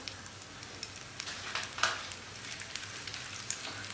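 Green chilies and cumin seeds frying in a few spoonfuls of hot oil for chana dal fara, a soft, steady sizzle with light crackles and pops throughout.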